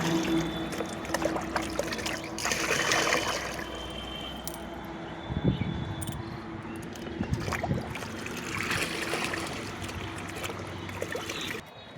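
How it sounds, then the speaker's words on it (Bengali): Liquid fertilizer with potash is stirred into water for feeding dragon fruit plants, making soft, continuous sloshing and trickling at close range, fairly quiet throughout. "এই লিকুইড সারটার সঙ্গে আমি জলটা মিশিয়ে দিব দিয়ে এটাকে আমি ভালো করে অনেকক্ষণ ধরে ভেটে নিতে হবে"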